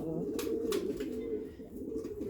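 Pigeons coo softly in a loft kept by a Turkish pigeon fancier, their low rolling calls continuous and close, with faint brief chirps over them.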